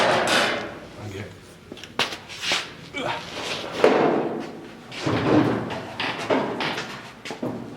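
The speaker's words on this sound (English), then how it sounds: "So I'm gonna have to take the door out" Passenger door being taken off a 1972 Triumph GT6 during restoration: a run of close metallic thumps, clunks and knocks at irregular intervals, with a louder knock midway, in a workshop.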